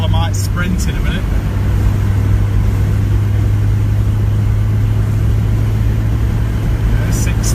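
A Citroen C15 camper van's engine drones loudly and steadily as it accelerates around the Silverstone track, with a constant low cabin hum and road noise throughout.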